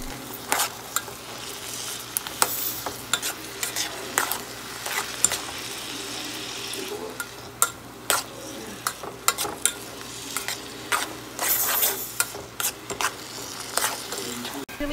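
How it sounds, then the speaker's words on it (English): Celery sautéing in butter with garlic in a pan, a steady sizzle broken by repeated scraping stirs and utensil clicks at a moderate level, with no talking. "we're going to cut the celery and we're going to saute it in some butter and some garlic"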